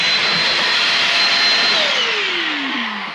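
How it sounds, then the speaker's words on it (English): A loud vacuum cleaner sucks mosquitoes off the windows inside an RV, a steady roaring whine close by, its pitch sliding down as the motor winds off near the end. "Why are you vacuuming the windows?"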